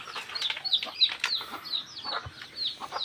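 Backyard chickens, including a brooding hen, cluck and chirp close by in quick, uneven bursts, the short high calls overlapping with softer low clucks.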